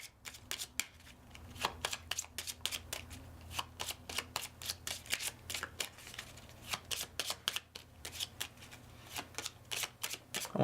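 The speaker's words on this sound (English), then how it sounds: "So I'm going to shuffle all these." A deck of board game cards for Ignite is shuffled at a table, a long series of crisp riffling bursts repeating in quick, uneven rhythm, close up and clear with no talking.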